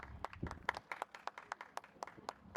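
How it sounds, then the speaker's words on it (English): A crowd at the Main Street Unionville festival opening in Markham claps for an organizer and her team; scattered, faint, fairly quick hand claps with a little voice underneath. "we'd like to give you and your team a big round of Markham applause"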